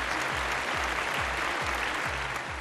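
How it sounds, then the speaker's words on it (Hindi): Loud, dense applause from a studio audience on a TV talent show honoring Bollywood villains, a continuous roar of clapping with a rhythmic thumping beat underneath. "बॉलीवुड के सभी खलनायकों को सम्मान में एक बार जोरदार तालियां हो जाए।"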